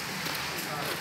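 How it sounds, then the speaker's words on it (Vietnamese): Rain falling steadily outdoors, a dense continuous hiss of drops on surfaces at even loudness throughout. "Mưa rồi, mưa rồi. Khúc cuối là mưa nè."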